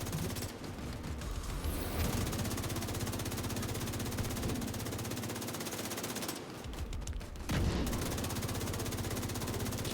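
Sustained rapid automatic gunfire in a video game, steady dense bursts hammering an enemy's shield with only brief pauses, loud and continuous.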